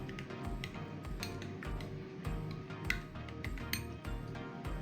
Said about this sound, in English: I'll be adding a tablespoon of milk to this and mix